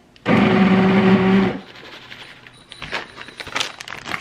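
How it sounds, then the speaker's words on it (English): An immersion blender whirs loudly for about a second blending soup, then cuts off, followed by quiet clinking and scraping. "we have to use the immersion blender."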